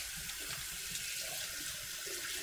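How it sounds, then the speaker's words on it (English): Tap water runs steadily at a kitchen sink as hands are rinsed of tomato sauce, a continuous close hiss of flowing water with no talk. "Now what I'm going to do is go wash my hands real quick"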